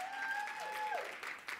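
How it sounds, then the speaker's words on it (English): Applause from an audience at the ERWIC Awards 2020 ceremony in South Africa, a brief burst of steady clapping at moderate level with a tonal sound fading out over it. "Give yourselves a round of applause, come on"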